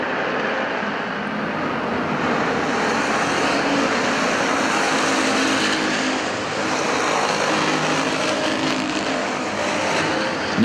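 Street stock race cars roar around the Perris Auto Speedway track in a dense, continuous engine drone that holds loud and steady throughout.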